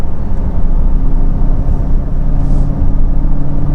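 A 2023 Chevrolet Corvette C8 Stingray 2LT with Z51 package accelerating, its engine droning loud and close with a deep, steady rumble and a low hum underneath, holding fairly even throughout.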